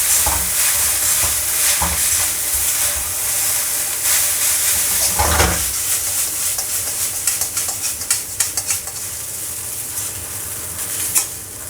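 Chow mein noodles with light soy sauce, oyster sauce and salt are stirred in a hot pan, a steady sizzle with scraping spoon strokes and bursts of hiss, no talking.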